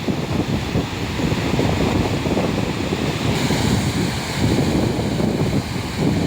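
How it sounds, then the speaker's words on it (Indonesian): Water rushing over the Srandakan dam weir, a steady loud roaring wash with wind buffeting the microphone throughout and no pauses. "ternyata tanggul atau dam Serandaan ini sudah terjun ya"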